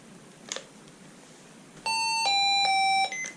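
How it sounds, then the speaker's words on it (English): A Midland 74-200 weather radio set to maximum volume sounds its alert in loud, piercing electronic tone pulses, three or four in quick succession, after a few faint clicks, with no talk. "you can see how loud the alert siren would be"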